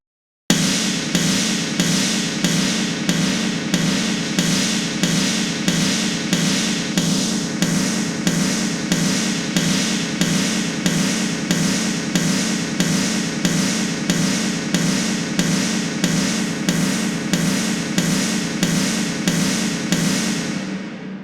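A processed Joey Sturgis-style snare bomb built in Cubase hits loud and heavy in a steady, evenly spaced loop, each booming, wide-band crack repeating about every three-quarters of a second for the whole stretch before cutting off.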